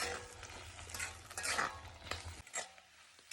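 Garlic, ginger and chili fry in a pan for homemade tomato pickle, a soft sizzle under scraping stirs, with a low hum that cuts out partway through.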